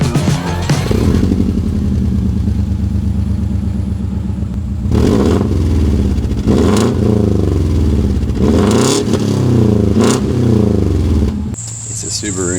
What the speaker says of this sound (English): I'll run it without the muffler, see how it sounds